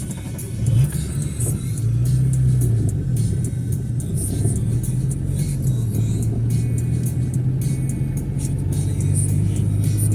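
A ZAZ Tavria car with a MeMZ engine, idle speed surging, runs steadily nearby with a low, wavering engine hum throughout, loud and continuous, with no talking over it.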